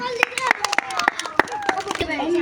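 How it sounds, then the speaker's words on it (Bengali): Clapping from the crowd at a village tyre-rolling game, sharp scattered hand claps over about two seconds, mixed with people talking nearby. "সকলে জোরে হাততালি"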